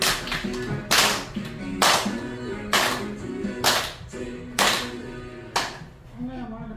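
A group in an exercise class claps hands in unison, six sharp, evenly spaced claps about a second apart, with voices and background sound continuing between them.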